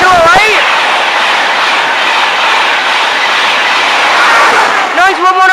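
A Class 91 electric locomotive, 91101 Flying Scotsman, roars through Stevenage station at speed with a loud, steady rush of wheels and air, while voices briefly chatter at the start and end.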